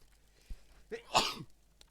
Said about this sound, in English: Tried to mute myself before I, sneezed, but, nope.